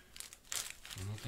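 A plastic DPD courier package crinkles and rustles as it is handled and opened, a few short bursts of crumpling close up, with a voice briefly audible.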